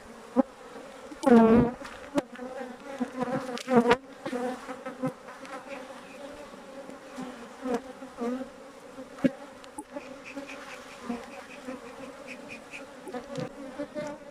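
Honeybees buzz around a hive just after a queen bee has been placed inside, a steady close drone with individual insects flitting past, no talking.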